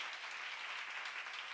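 A church congregation at a Korean sermon claps in steady, dense applause that holds at an even level throughout, heard from a little distance.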